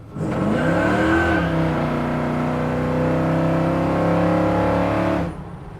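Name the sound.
restomod 1983 Chevrolet C10 truck engine accelerating at half throttle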